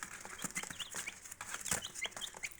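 Soft clucking from several hens nearby with their chicks, faint chirps and rustling, fairly quiet overall.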